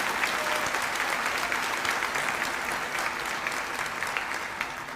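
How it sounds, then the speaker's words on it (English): Steady applause from a crowd at a 2021 high school graduation ceremony honouring a student, dense and sustained across the whole stretch, fading slightly toward the end. "please join me in offering applause for Adriana"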